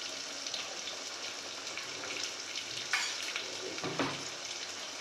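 Finely chopped garlic sizzles steadily in hot oil for a tempering, a continuous close frying hiss with a few brief stirring scrapes and clinks.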